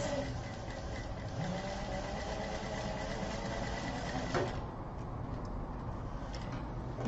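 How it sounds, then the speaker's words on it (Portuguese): A sewing machine stitches fabric pieces for a three-compartment zip pouch, giving a steady, fast mechanical chatter that stops briefly and resumes more quietly. "Eu vou passar uma costurinha pra me ajudar."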